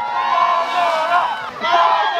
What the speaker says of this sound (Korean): 자, 박수 한번 크게 한번 부탁드리겠습니다.